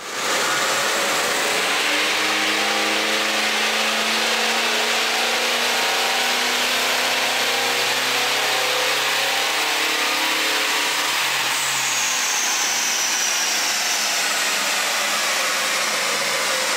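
A remapped Toyota Fortuner 2.4 diesel SUV accelerates along an open toll road, heard from inside as a steady, loud broadband engine and road roar with rising low engine tones, continuous throughout with no talking.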